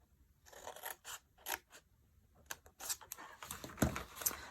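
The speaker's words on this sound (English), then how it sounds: "I just find it just as easy to use my scissors." Scissors snip repeatedly through paper, quick crisp cuts in short bursts and pauses, close and fairly quiet with no talking.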